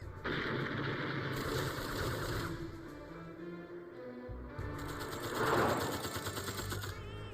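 Rapid gunfire bursts follow shouted fire commands in a Vietnam War film battle scene, a rattling volley, a short pause, then another burst, heard fairly quietly.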